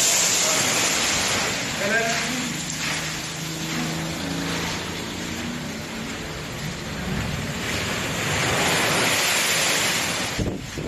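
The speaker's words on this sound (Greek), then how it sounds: "Μανιασμένα κύματα χτυπούν και εισβάλλουν σε κατάστημα εστίασης στον Άγιο Νικόλαο." Storm-driven waves crash and surge into a seaside restaurant in Agios Nikolaos during a strong windstorm, a continuous roar of water and gusting wind with a sharp splash near the end, under a voice speaking.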